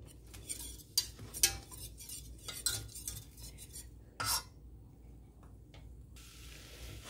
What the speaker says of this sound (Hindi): ये बिल्कुल कॉन्टिन्यूसली आपने इनको विस्क करना है